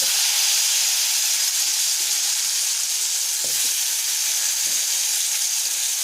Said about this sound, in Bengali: ঠিক সেম প্রসেসে কলাগুলো ভেজে নেবো।